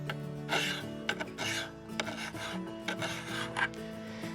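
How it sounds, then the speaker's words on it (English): A hand file sharpens the edge of a Badboy Maverick lawn mower blade in steady back-and-forth rasping strokes, each scrape close and distinct against a faint metallic ring, with no voices. "I'm just using a file and try to sharpen the edge of the blade as much as possible."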